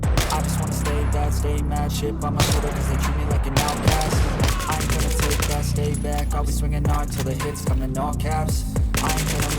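Rapid bursts of automatic gunfire in a Battlefield video game rattle repeatedly over loud, driving background music.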